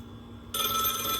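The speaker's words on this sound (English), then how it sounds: "I see the phone is still ringing when I have it answered." A telephone bell starts ringing abruptly partway through, a bright rapid electronic trill that continues steadily and loudly after a brief quiet hum.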